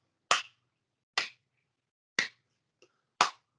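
Four sharp, evenly spaced hand claps ring out alone in a quiet room during a ukulele lesson, each a crisp close slap, with one faint tap between the last two.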